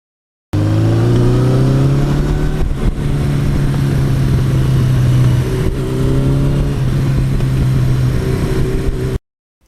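A 1982 Suzuki GS1100E motorcycle engine runs on the road, a loud steady drone with rising pitch as it accelerates through the gears, with brief dips at the shifts, close and continuous for about nine seconds.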